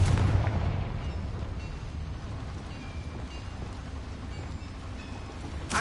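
A Confringo fire spell from the Hogwarts Legacy video game goes off with a loud, booming blast at the start, then a long rumbling roar that carries on steadily, with a second burst at the end.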